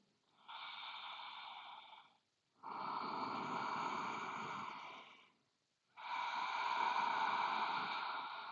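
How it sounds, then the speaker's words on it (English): Three long, slow yoga breaths with a hissing, ocean-like rasp, each several seconds long and separated by short pauses; close and quiet. "you can find that hissing, ocean-like sound."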